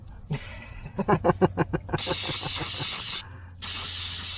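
Two long, loud bursts of aerosol brake cleaner spray hiss during a 2015 Dodge Challenger rear brake job, separated by a short pause, following a quick series of rhythmic clicking or rattling sounds.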